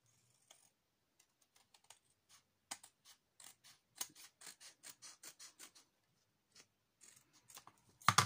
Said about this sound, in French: Je vais venir couper ce côté-là.